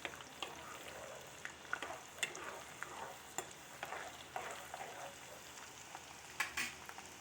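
Spices frying in hot oil for mango pickle, with asafoetida in the pan: a steady, fairly faint sizzle and crackle with scattered sharp pops and the occasional stir, no voices.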